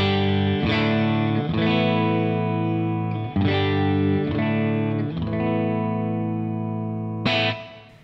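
A Two-Rock Classic Reverb Signature amp on its classic Two-Rock gain setting plays a series of ringing electric guitar chords, each strum sustaining with thick, crunchy overdrive before the next one hits.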